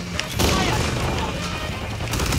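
Rapid gunfire and explosions from the video game Modern Warfare 2 on the Shipment map, a dense, continuous barrage of shots and booms with a voice talking over it.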